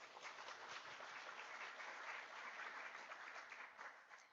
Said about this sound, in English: So I'd like you to give a round of applause for my constituents.